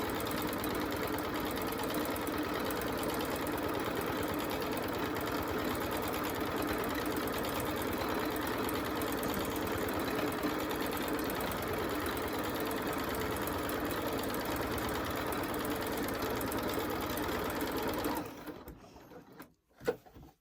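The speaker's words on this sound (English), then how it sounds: "This machine does not like to go fast when you're doing free motion." A sewing machine runs steadily during free motion quilting, a close, continuous mechanical hum and rapid needle chatter that holds for about eighteen seconds before stopping with a few clunks.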